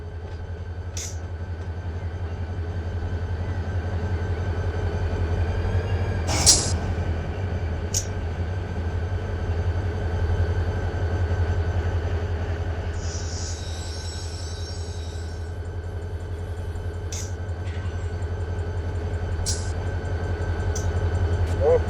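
In Run8 Train Simulator, a Norfolk Southern C42 local freight locomotive hums with a steady low engine drone as it pulls forward on the Pittsburgh Line, with occasional short clanks and a brief hissing burst over the constant rumble.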